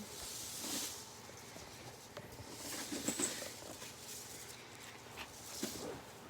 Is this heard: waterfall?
no